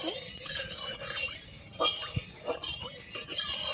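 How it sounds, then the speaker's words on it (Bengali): A utensil stirring in a cooking pan, producing soft scrapes and a few light metallic clinks in a short, quiet kitchen passage. "নাড়িয়ে নিচ্ছি"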